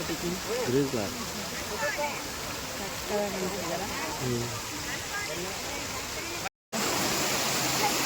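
Water rushing at the KRS dam water show at night, a constant broad roar with voices talking over it throughout and a brief dropout near the end.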